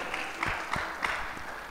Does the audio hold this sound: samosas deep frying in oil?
no